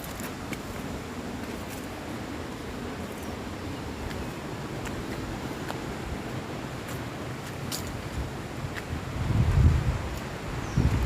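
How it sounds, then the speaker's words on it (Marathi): River water rushes and gurgles past farm fields in the Konkan countryside, making a steady, broad hiss of moderate loudness that swells slightly near the end, with no voices heard. "नदीचा वाहनाला खळखळ आवाज"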